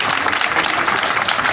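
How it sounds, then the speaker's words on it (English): A crowd of Busoga supporters at a political rally breaks into loud, dense applause that fills the whole moment with steady clapping. "Give them a big round of applause."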